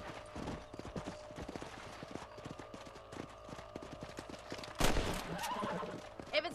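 A horse's hooves clip-clop in a steady, quick rhythm in the Red Dead Redemption video game, joined by scattered gunfire-like cracks, a sharp burst near the end and a brief whinny.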